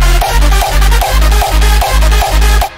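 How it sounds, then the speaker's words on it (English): Hardstyle drop kick drum pounding in a steady, heavy pattern, seven or so loud distorted thumps with deep booming tails, alone and up front before cutting off. "And now you go to the drop and you add your drop kick."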